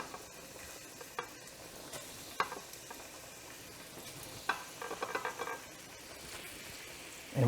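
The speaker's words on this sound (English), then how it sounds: "You want to make sure they sizzle when they hit the pan" Shrimp hit hot olive oil in a pan, giving a faint continuous sizzle broken by scattered crackles and stirring scrapes, with no voices.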